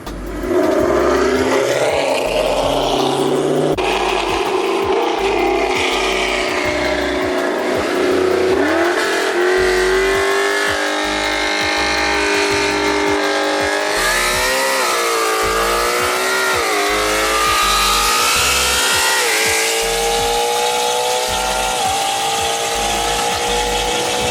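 Naturally aspirated Ford Mustang racing past at full throttle, a loud, close engine roar that climbs through several gear changes and keeps revving hard throughout.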